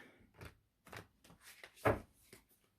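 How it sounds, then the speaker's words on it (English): Tarot cards are shuffled up close in a few short, soft riffling bursts with quiet gaps between them. "So let's go ahead and get this shuffled."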